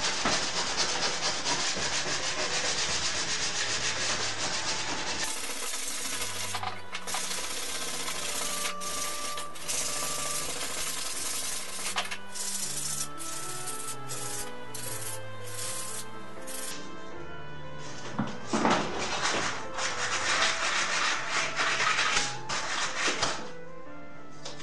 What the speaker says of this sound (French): là j'ai fini de le poncer